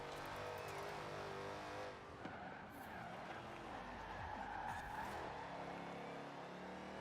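A race car in a driving video game revs and roars continuously, its engine pitch climbing and falling through a turn with throttle feathering, a brief brake tap and tire squeal, loud and close throughout.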